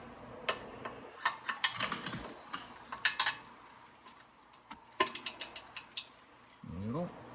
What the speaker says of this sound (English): I should be able to get the ratchet up to it.